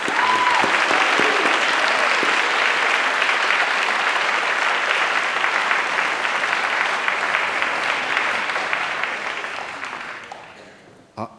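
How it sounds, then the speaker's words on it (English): Graduates at a university graduation ceremony clap their hands in loud, dense, sustained applause that fills the hall for about ten seconds before fading out near the end. "maybe the graduates should just clap their hands to thank their family."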